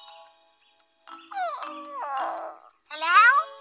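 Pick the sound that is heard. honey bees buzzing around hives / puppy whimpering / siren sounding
puppy whimpering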